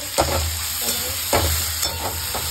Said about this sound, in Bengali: এই তো সুন্দর মশলা কষা হয়ে যাচ্ছে